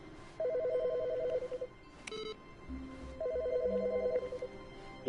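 Two bursts of electronic telephone ringing from an office phone in The Stanley Parable, clear and close, with a short gap and a low musical tone between the rings.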